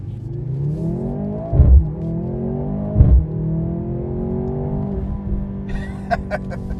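Mercedes-Benz C43 AMG in Sport Plus mode accelerating onto a highway, engine pitch climbing through gears with two sharp shift thumps, a steady rising roar heard from inside the cabin, faint clicks near the end.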